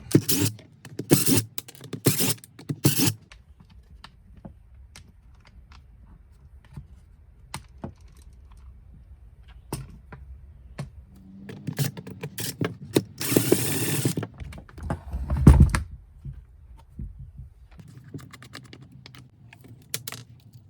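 Small parts are worked loose on a McCulloch chainsaw with a T25 Torx bit during a refurbishment, giving bursts of clicking, ratcheting and mechanical taps with quiet gaps between them. The sounds are close and there is no talking.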